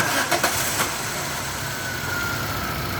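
A Chevrolet Sail engine with a camshaft position sensor fault starts with a brief catch, then settles into a steady, close running hum and faint idle hiss with no voices.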